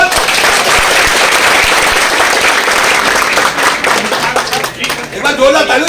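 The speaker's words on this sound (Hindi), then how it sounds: "एक बार जोरदार ताली हो जाए साहब।" A large crowd at the opening of Bhagalpur Wonder World in October 2021 claps steadily and loudly, a dense, sustained applause that thins slightly near the end.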